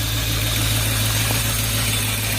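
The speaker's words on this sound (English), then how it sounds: "here's the engine running. Sounds pretty good" A 1997 Land Rover Discovery 4.0 V8 idles steadily with a low, even rumble and no misfires, close and continuous with no talk over it.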